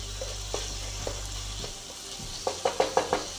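Chicken cooking in a pan for spicy chicken spaghetti, with a low steady sizzle and a few soft clinks early on, then a quick run of five sharp stirring knocks near the end, close and fairly quiet.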